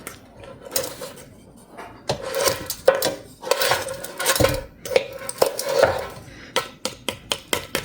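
A knife saws through the crackling skin of a deep-fried pork knuckle for crispy pata, producing dense crunchy scraping and snapping that ends in a run of quick separate crackles, close and fairly loud.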